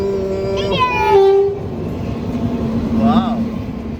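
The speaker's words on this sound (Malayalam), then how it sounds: "ഇത് മറ്റേ ഇന്റർസിറ്റി എക്സ്പ്രസ് ആണെന്ന് തോന്നുന്നു. കണ്ണൂർ തിരുവനന്തപുരം ആണെന്ന് തോന്നുന്നു. ട്രെയിൻ തീരുന്നില്ലല്ലോടാ." A long Kannur–Thiruvananthapuram Intercity Express train rumbles past close by with a sustained horn-like tone, and people's voices and shouts rise over the noise.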